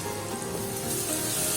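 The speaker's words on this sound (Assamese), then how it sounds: "তেলতে ক'লা জিৰা, পাঁচফোৰণ, অলপ নহৰুৰ পেষ্ট দি পেলাই ৰঙচুৱাকৈ ভাজিব" Black cumin, panch phoron, garlic paste, dried chillies and fennel fry in hot oil for raw mango chutney, giving a steady close sizzle with a hissing wash that swells slightly toward the end.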